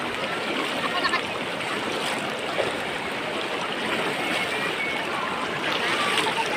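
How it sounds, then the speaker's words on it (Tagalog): The Isap River in Bongabong, Mindoro flows with a steady broadband rush of water, continuous and fairly close, with faint voices mixed in underneath. "Ayan, ito yung ilog dito guys."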